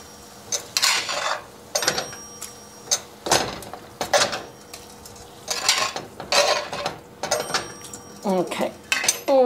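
Scraping and clinking of a utensil against a bowl while a hot homemade meat patty mixture is scooped out, in repeated short bursts of clatter with brief pauses between them.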